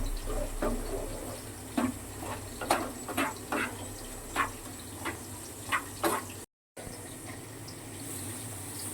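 Water poured into a powdered-milk sweet mixture, a continuous soft liquid trickle with scattered clinks and taps of a utensil, close and fairly quiet, with a short dropout near the end.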